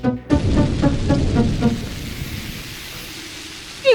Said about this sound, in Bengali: কি গো, এত বৃষ্টি পড়ছে